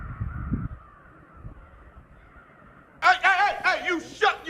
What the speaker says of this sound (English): Jeez, there's a crow battle.